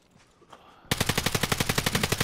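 Rapid automatic gunfire in a video game bursts in suddenly after a quiet moment, a loud, even string of about twenty shots in quick rhythm with no talk.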